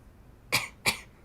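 Two short, sharp coughs about a third of a second apart, close and clear against a quiet background.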